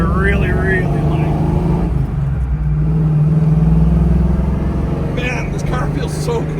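1978 Pontiac Trans Am with its Pontiac engine and T-10 four-speed stick shift, driving. The engine drones low and steady with a swelling rumble as it pulls through a gear, and someone talks over it.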